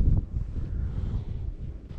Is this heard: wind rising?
yes